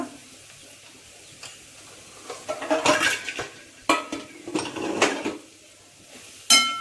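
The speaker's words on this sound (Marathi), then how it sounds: "चांगलं परतून घ्यायचं आणि थोडीशी कोथिंबीर परतून घ्यायची चांगली" Vegetables and coriander sautéed in a pan for a Mysore masala dosa filling, quiet stretches broken by a few bursts of spatula scraping and clinking against metal, with a sharp clank at the end.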